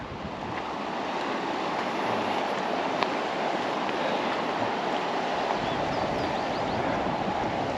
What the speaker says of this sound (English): So I'm going to hear this water running all night long